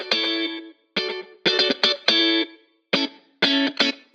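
Electric guitar played through a short 16th-note slap delay mixed low, with loud chopped chords in quick bursts separated by brief silences, each hit leaving a tight echo.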